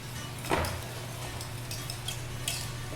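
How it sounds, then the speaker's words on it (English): A whisk works quickly through a cheese sauce in a pot on the stove, the sauce made with romano and kaseri cheese. Faint repeated scrapes and clicks of the whisk against the pot sit over a low steady hum, with one louder knock near the start. "Whisk."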